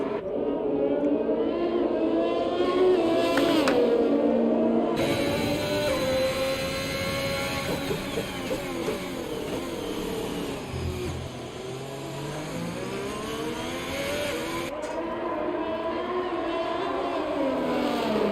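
Race cars lapping the Monaco street circuit in a sim racing game during a dry race, engines whining and rising and falling in pitch continuously as they accelerate and brake, loud and close throughout.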